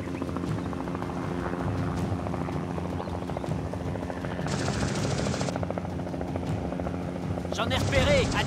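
A helicopter flies overhead in a tense hunting scene, its steady rotor drone and whine running throughout under ongoing speech and background sound effects.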